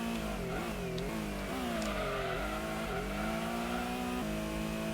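Race cars in the PlayStation racing game Gran Turismo 1, including an RX-7 and an Evo, with a steady engine drone whose pitch rises and falls through gear shifts, sounding loud and continuous with no talk.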